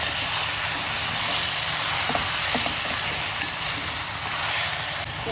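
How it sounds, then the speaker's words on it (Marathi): Mixed mutton frying in a hot pan, a dense steady sizzle and hiss with occasional stirring scrapes, close and continuous without speech. "आता हे सगळं मिक्स केलेलं मटण टाकायचं याच्यामध्ये आणि छान मिक्स करून घ्यायचं"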